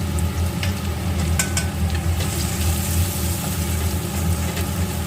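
Salt and turmeric tipped into hot oil for a prawn and potato dish: a steady, close sizzle that holds for the whole stretch over a low background hum, with no talk.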